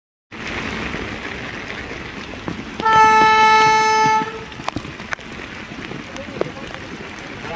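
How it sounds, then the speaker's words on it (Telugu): A train horn sounds one sustained blast over steady rumbling noise, with a few sharp clanks afterward, at a railway station with floodwater on the tracks after heavy rain. "గోల్కొండ ట్రైన్ ఆగిపోయింది."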